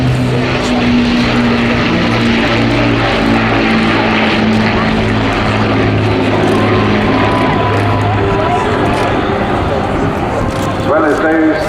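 A BBMF Avro Lancaster bomber with Rolls-Royce engines flies at an airshow in Southport, with a loud, sustained multi-engine propeller drone that holds steady and shifts slightly in pitch, and a commentator talking over it.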